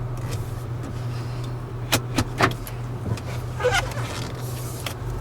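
A car drives slowly past a cemetery on freshly installed brakes, wheel bearings and calipers, with a steady low engine hum in the cabin broken by a few short clicks and knocks, and no talking.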